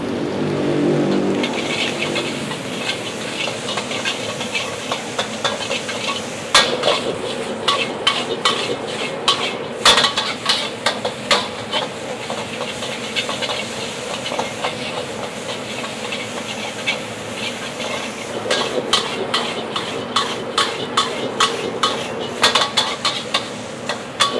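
Mie goreng noodles stir-fried in a pan with a touch of soy sauce, a smoky charring technique: repeated metal scrapes and clatters over a steady hissing roar, close and loud throughout.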